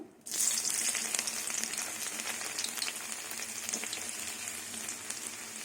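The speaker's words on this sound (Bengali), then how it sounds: "তেল গরম হয়ে গেছে দুটো শুকনো লঙ্কা দেব এবার কুচনো রসুন দিয়ে দেবো" Chopped garlic and two dried red chillies dropped into hot mustard oil burst into a loud, close sizzle that starts abruptly and settles into steady crackling frying for a lentil and bottle gourd stem dish.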